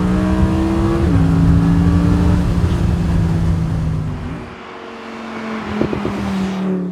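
A 12,000 RPM V8 hillclimb race car roars loudly and close at high revs, its pitch holding steady, then dropping off with a shift before the engine eases and blips again near the end.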